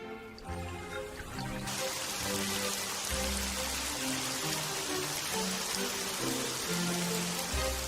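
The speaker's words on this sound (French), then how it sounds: "Quel déluge!" A heavy rain downpour pours steadily and densely, a loud continuous hiss of drops on surfaces throughout, with low musical tones running beneath it.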